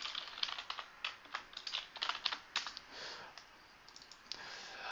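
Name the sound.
computer mouse clicking the Browse button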